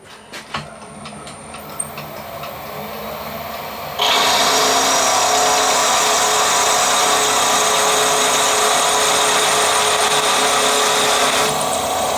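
A power drill bores a clearance hole for an M14 thread tap in a metal stud in a workshop. Quiet handling and faint whirring give way to a loud, steady, high-pitched drilling whine that holds unbroken to the end.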